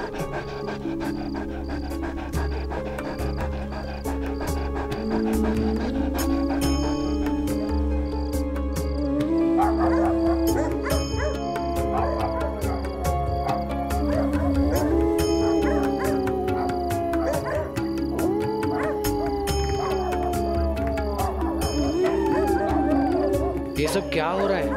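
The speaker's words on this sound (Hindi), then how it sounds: "सब क्या हो रहा है? कुत्ते क्यों रो रहे हैं?" Several dogs howl at length, their long wavering cries mixed with yips, panting and whimpers, rising and falling over a sustained background drone.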